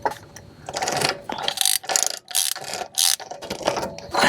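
A torque wrench tightens the wheel bearing nut on a Ford Bronco, giving close, loud bursts of ratcheting clicks in uneven spurts separated by short pauses.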